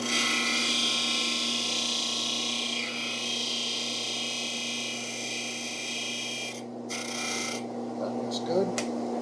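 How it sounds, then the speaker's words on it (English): A disc sander grinds an angle into the wood of a steel-string guitar neck, a steady close rasping whir that runs throughout and changes texture briefly near the end, with faint talk underneath. "go over to the disc sander and sand that angle off."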